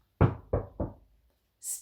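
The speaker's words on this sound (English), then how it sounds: "She knocked on the door and waited." Three firm knocks on a church door, close and evenly spaced, then silence and a faint high swish at the end.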